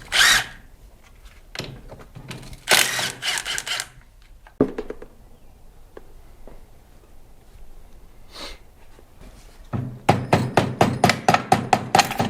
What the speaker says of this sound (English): drive the shift shaft out of this ratchet top transmission